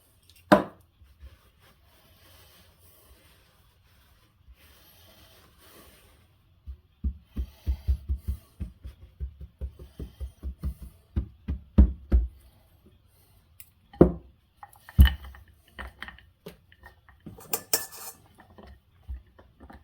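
A knife cuts rolled dough for homemade dog treats, giving a run of quick, close thuds against a board with occasional louder knocks and clinks between quiet pauses.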